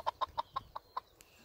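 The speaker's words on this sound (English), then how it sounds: "curious chickens." Chickens cluck in a quick series of six short, close calls, then fall quiet.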